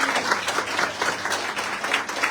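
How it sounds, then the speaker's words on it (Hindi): Loud, steady applause from an audience at a network marketing business seminar, fast rhythmic clapping filling the whole stretch with no talk over it. "हेलो, जोरदार ताली होनी चाहिए"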